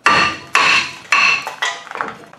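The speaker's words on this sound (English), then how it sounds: "you can just smack the disc off," Brake disc being hammered off the front hub of a four-cylinder Toyota Camry, five sharp metallic strikes about half a second apart, loud and ringing, with no talk.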